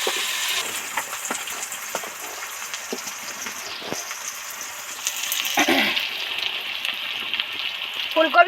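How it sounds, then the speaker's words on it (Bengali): Potatoes and cauliflower deep fry in hot oil, a bright, crackling sizzle with scattered pops that swells louder toward the end. "একদম ফাঁকা তেলে ডিপ ফ্রাই করে ভেজে নিয়েছি"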